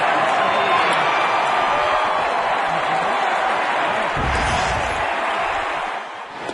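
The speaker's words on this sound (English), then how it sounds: "Listen to the crowd." A baseball stadium crowd roars in a sustained, loud wash of cheering at a Seattle road game, with a voice faintly mixed in.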